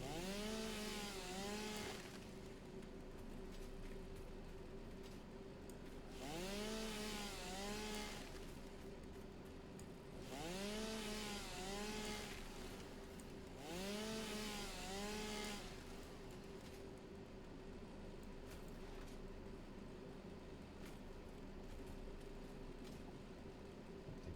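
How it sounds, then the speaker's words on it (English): In a video game, a chainsaw cuts wood in four loud, evenly spaced bursts. Each revving whine swells and falls away into a quieter idle between cuts. "It wasn't letting me use my chainsaw."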